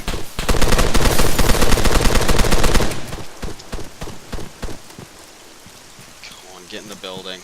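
Rapid automatic gunfire in ARMA 3, loud dense bursts for the first few seconds, then scattered shots fading with distance as a voice speaks faintly near the end.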